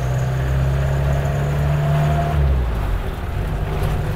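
A Mahindra Classic jeep fitted with a Peugeot engine idles loudly and steadily, a deep, constant mechanical drone with a slight dip near the end and no talking.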